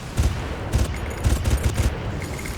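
Gunfire in the Far Cry video game comes in rapid bursts of several shots each, with a heavy low thump, sounding fairly close amid ongoing battle noise.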